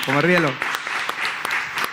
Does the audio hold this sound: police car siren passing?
no